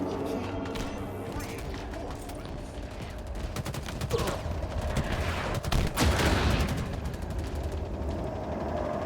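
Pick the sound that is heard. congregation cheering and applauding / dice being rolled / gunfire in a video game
gunfire in a video game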